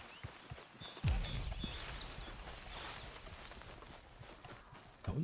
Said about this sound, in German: Unten sind Pferde.